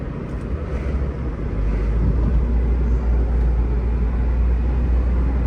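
A right-hand-drive Honda CR-V RD1 imported from Japan cruises down a highway, its road and engine drone a loud, steady rumble from inside the cabin that swells slightly and then holds, with no voices.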